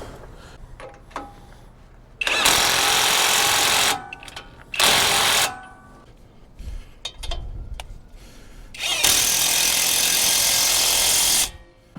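A power tool tightens the tie rod ends on a 2017 Ford F350 4x4 in a steering repair, sounding as three loud whirring bursts with quieter clicks and handling noises between them.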